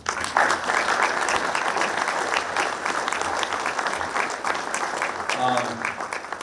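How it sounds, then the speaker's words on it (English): A dinner crowd at a baseball first-pitch banquet breaks into a round of applause, a broad, sustained wash of clapping that stays steady, with a brief voice surfacing near the end. "So let's give him a round of applause."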